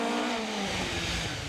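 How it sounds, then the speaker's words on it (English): Rally car in a long drifting slide at the Legend Boucles Bastogne 2019, engine note held high then breaking into a rough, rising snarl with tyre scrub, loud and close. "you can do really proper drifting with these cars as well, so that's what people want to see, and it's one of the best way of going as well, so long slides and the sound of the engine"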